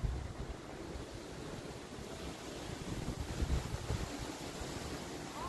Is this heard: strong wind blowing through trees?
yes